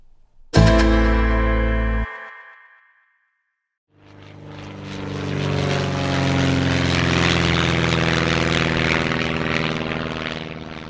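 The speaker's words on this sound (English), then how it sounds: "I just landed down this old biplane here in the quaint little town of Dimebox, Texas." An old biplane's propeller engine drones steadily and close, swelling in and holding loud after a brief, sharp, unrelated tone and a moment of silence.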